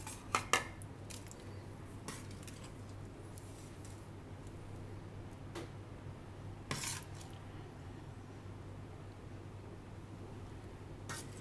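Pumpkin and paneer curry is spooned from a pan onto a plate, a few soft clinks of utensil on cookware at the start and again midway, the rest quiet and faint.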